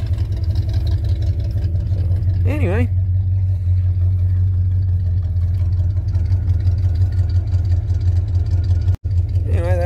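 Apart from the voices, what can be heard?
truck engine idling with exhaust leak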